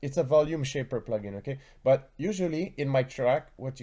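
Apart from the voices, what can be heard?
No distinct noise like a dog, phone or traffic.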